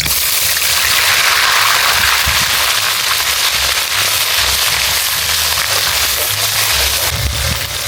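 Whole bay leaves, cumin seeds, dried red chillies and onion paste frying in hot oil for a Bengali village chicken curry, giving a loud, steady crackling sizzle throughout with no talking.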